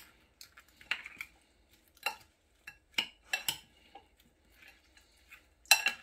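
Utensil scraping and clinking inside a pot while stirring ingredients for Jamaican brown stew red snapper, a series of short irregular knocks and scrapes, close and fairly quiet with no talking.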